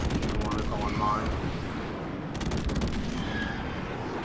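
Airstrike explosions in a Call of Duty match: a dense run of booming blasts and crackling gunfire-like bursts rolls on continuously, loud and close, with a faint voice in the mix.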